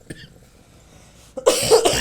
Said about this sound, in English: once you start coughing